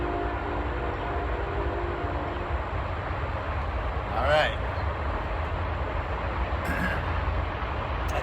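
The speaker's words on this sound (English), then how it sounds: "That train gets loud." Passing train rumbling steadily nearby throughout, with a brief horn-like tone near the middle and a short high squeal later, as someone says a couple of words.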